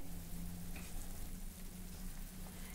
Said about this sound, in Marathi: याला छान खळखळून उकळी आली आहे